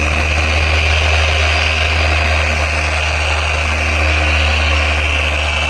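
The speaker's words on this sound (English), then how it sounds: "this Griot's Garage orbital polisher" A steady, loud motorized hum runs without pause from a Griot's Garage orbital polisher waxing a boat hull, a constant machine drone with a bright high whine layered over a low rumble.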